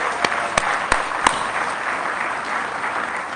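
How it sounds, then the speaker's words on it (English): Audience applause at a homelessness conference opening plenary, a dense, continuous clapping from a large crowd with a few sharp claps standing out early, steady and fairly loud throughout. "How about that another round of applause for our amazing new CEO?"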